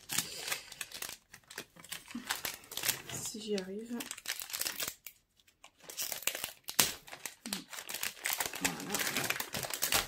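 Thick black 160 g paper crinkles and rustles as a sheet is handled, in repeated close crackling bursts interrupted by a brief pause, with someone speaking over it.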